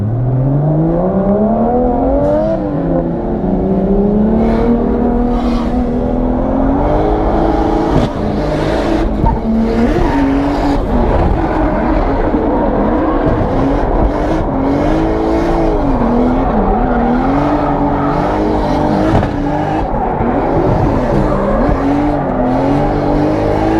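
A Toyota JZX100 drifting in a competition battle, its engine loud and close, revving up and down in long sweeps while the tires squeal continuously through the run.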